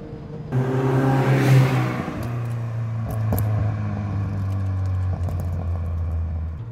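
A Renault Clio Williams engine revs hard and loud, then settles into a steady, throaty drone with brief surges; no one speaks.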